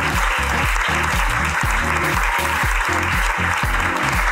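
Studio audience applause on a Spanish comedy podcast, a steady dense wash of clapping with a low rhythmic musical thump running underneath throughout.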